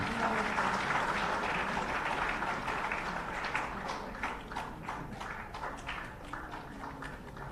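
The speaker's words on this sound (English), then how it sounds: "kindly give him a big round of applause" Audience applause at a formal state-day celebration hosted by a governor, a dense wash of clapping that gradually thins into scattered, distinct claps as it fades, moderately quiet throughout.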